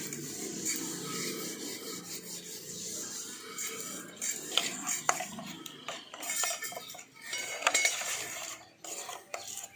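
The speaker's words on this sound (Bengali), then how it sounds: "সব কিছু আমার আবার একবার খুব ভালো করে মিশিয়ে নিচ্ছি।" A spoon scraping and mixing a paneer marinade with ajwain, kasuri methi and other spices in a bowl, giving close, continuous rubbing and clinking with irregular sharper scrapes.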